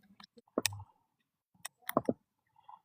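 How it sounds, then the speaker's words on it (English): Computer keyboard keys are struck hard in a few sharp, irregular bursts of clicks separated by quiet gaps, close and fairly faint overall. "I hear you tapping the keys violently."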